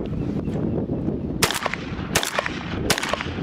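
Shotgun fired outdoors in Canada at a CD, with three loud, sharp blasts spaced roughly evenly over wind and low rumbling background noise.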